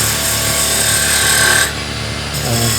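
A woodturning tool cuts a wooden sphere held off-centre on a lathe, giving a steady, fairly loud scraping whir that drops away briefly near the end and then resumes.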